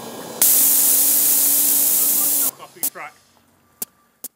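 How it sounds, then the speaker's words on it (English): A steam engine's blower lets out a loud, steady hiss for about two seconds, then cuts off abruptly, followed by a few brief voices and small knocks. "With pressure aplenty, the steam blower can be used"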